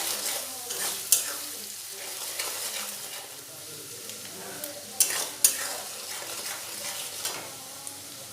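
Onions salted and frying in a pan give a soft, steady sizzle. Sharp spatula scrapes and taps punctuate it now and then, with no talking.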